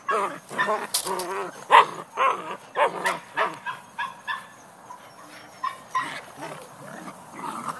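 A litter of black Belgian Malinois puppies barks and yips in a rapid string of short sharp calls, close and fairly loud, with light whimpering between them.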